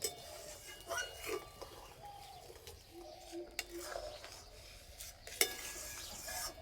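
Soft scraping and stirring of Gokul pitha mixture with cardamom powder in a pan, with light utensil clinks and a sharper knock near the end. The sounds are faint and intermittent over quiet room background.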